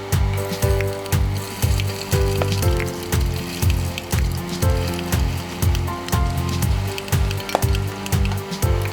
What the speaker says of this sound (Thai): ตั้งกระทะเตรียมทอดปลากันเลยครับ เราใช้ไฟแรงเลยนะครับ